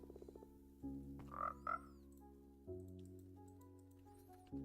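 Frogs in a video game croak in soft, repeated low calls layered over a steady ambient hum, with a few brief louder croaks and clicks, faint and without talk.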